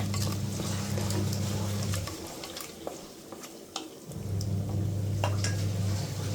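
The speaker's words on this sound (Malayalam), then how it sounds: "ഞാൻ ചെറിയ പീസായിട്ടാണ് കേട്ടോ ചിക്കൻ ആക്കിയെടുത്തത് ഇനി ചിക്കൻ ഇട്ട് കൊടുത്തിട്ടുണ്ട്" Small chicken pieces fry and get stirred in a pan for kabsa. A steady sizzle and hiss play with scraping spoon strokes, pause briefly midway, then resume loudly.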